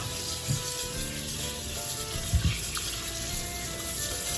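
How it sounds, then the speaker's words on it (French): Cold tap water runs steadily over veal in a colander, a continuous hiss with soft clatters of meat and metal near 0.5 and 2.4 seconds. "Donc on verse la viande dans une passoire. Et on la rince à l'eau froide."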